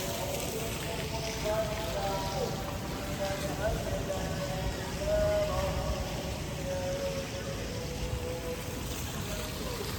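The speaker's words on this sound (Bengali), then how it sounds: "ঝর্ণার পানিগুলি দেখতে কি সুন্দর লাগতেছে" Waterfall water splashes and patters continuously at close range while a person talks over it, with faint tonal sounds drifting in the background.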